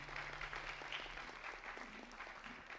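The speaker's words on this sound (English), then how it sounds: "we should clap for what Jack has achieved" A lecture audience claps together at a steady, moderately distant level, a dense patter of hands with no voices on top.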